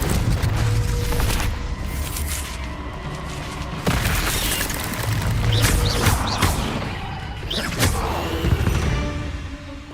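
Confringo spell blasts in Hogwarts Legacy go off as repeated booming impacts and crackling bursts amid dense game effects and rumble, with sharp hits scattered across the span.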